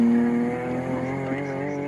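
A race car engine drones with steady harmonic tones during rough gear changes at Snetterton, a sharp high pitch cutting out early as the gear changes, heard up close and loud.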